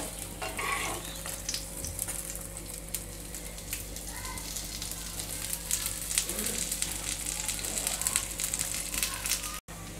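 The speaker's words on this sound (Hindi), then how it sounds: "दोनों साइड से इसे क्रिस्प होने तक अच्छी तरह से इसे फ्राई करेंगे" Steady sizzling of a low-oil snack frying crisp in a pan, with scattered crackles and a low hum underneath, continuous throughout at moderate loudness.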